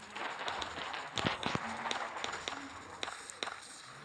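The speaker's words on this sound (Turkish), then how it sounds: "ayak sesini o kadar yapmışlar" Running footsteps in a horror video game, a quick series of sharp thuds and clicks scattered through the clip under game noise and voices.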